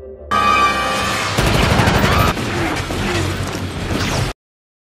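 Gunfire in a film battle between vampires and Lycans: loud, dense bursts of rapid shots and impacts with mechanical clatter, continuous for about four seconds before cutting to silence.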